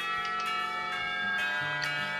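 A pealing school bell in the visual novel Katawa Shoujo rings out in steady, sustained metallic tones with several struck accents, reverberating alone without speech.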